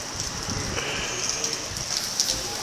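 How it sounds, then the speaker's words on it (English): Pouring rain over a parking lot at night makes a steady, dense hiss, close and unbroken throughout, with no talking. "I have to run that far in the pouring rain."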